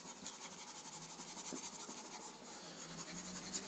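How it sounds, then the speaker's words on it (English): Chalk scratches and rubs across a blackboard as writing is erased, a steady near scraping texture lasting a few seconds, faint and without any talk. "Let me first erase some of this stuff over here."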